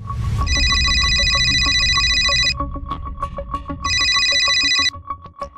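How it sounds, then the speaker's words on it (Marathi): An electronic landline phone rings loudly and close in a home, with a repeating warbling tone in two long bursts separated by a pause and a rapid pulsing pattern beneath. "अहो वृंदाताईचा फोन आहे."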